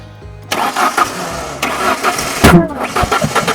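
A Mazda B2300 pickup's engine cranks and catches, then sputters and revs roughly with a sharp backfire pop, loud and close, with brief voices in the background.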